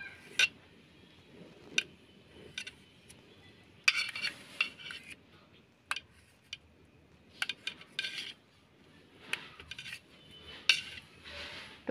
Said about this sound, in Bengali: পনিরটা আমি খুব বড় করে কাটবো না, এখানে ছোট ছোট টুকরো করে কাটবো।